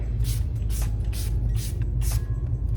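Five short hissing bursts of a spray bottle, evenly spaced, sound close over a steady low background rumble.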